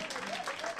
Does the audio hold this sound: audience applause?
yes